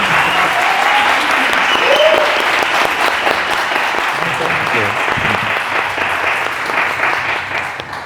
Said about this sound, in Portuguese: Uma salva de palmas aí, a galera.